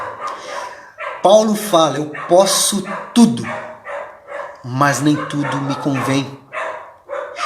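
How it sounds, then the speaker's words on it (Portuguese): Dogs bark in several loud, sharp bursts close by. The barks come in irregular clusters and are mixed with someone speaking throughout. "Desculpa o latido dos cachorros aqui"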